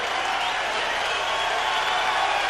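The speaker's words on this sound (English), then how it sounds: "Crowd cheers him." Crowd at a heavyweight boxing match roars and cheers steadily as a fatigued fighter gets back up, a dense continuous wash of noise from a large audience with no break throughout.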